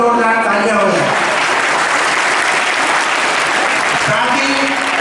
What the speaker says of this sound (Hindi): उनके लिए बहुत जोरदार तालियां हो जाए